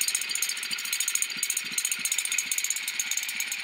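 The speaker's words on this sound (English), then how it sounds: "That's a generator making electricity." A generator runs steadily nearby, giving a continuous mechanical rattle with a hiss on top and a fast pulsing low-end rhythm. No one speaks.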